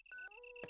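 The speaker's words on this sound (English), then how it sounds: "Heard that beeping, so I need to go and hit the radio" Repeated electronic radio beeps in a zombie survival video game, short bright tones sounding over a steady high synthetic game hum, fairly quiet.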